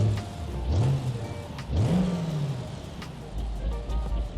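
A 380 horsepower rock crawler engine in the BeamNG driving game revs up twice in quick rising sweeps, then settles back to a steady loud idle rumble, heard alone and close.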